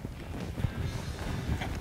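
A horse lopes with a soft, rhythmic drumming of hoofbeats, fairly faint and close, in a short burst.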